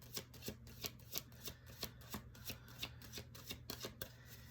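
Tarot cards are shuffled close up in a quiet room, a steady run of crisp riffling snaps repeating roughly twice a second with no talk.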